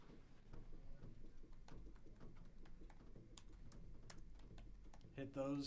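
Quiet rapid clicking of computer keyboard keys, an irregular patter of taps running throughout under low background noise, with a voice starting up at the end.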